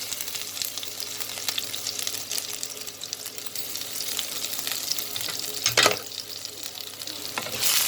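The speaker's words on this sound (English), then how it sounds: "now I am going to add the chopped ginger and garlic into the hot oil" Chopped ginger and garlic sizzling in two tablespoons of hot oil, a steady bright crackling hiss that runs throughout, with a brief louder burst near the end.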